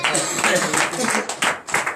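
A congregation at a morning prayer service claps in acclamation, dense rhythmic clapping with loud voices and cheering woven through the whole passage.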